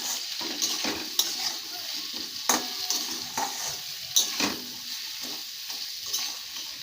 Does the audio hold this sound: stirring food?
yes